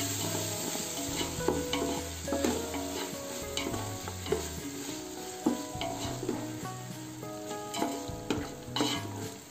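Onions and tomato with green curry leaves sautéing in a pan for Tamil egg curry, with a continuous sizzle and frequent clinks and scrapes of a spoon against the pan, and no voices.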